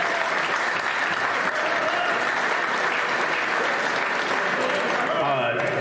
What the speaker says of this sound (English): a round of applause to all of the amazing staff at the MAC